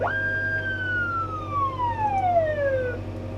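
A single electronic siren wail from a remote-controlled siren mod on a Fendt One tractor sweeps slowly downward in pitch over a steady low hum, clear and close.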